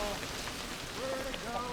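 Steady rain falls on a mountain pass in the Pacific Northwest during a cycling tour, a continuous broadband hiss at moderate level with faint tonal sounds drifting through.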